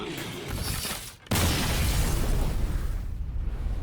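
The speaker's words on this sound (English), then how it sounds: "The arcane explosion." An arcane explosion spell goes off in the card game Hearthstone Mercenaries: a sharp burst hits after a brief dip, then a dense crackling, rumbling blast that decays slowly.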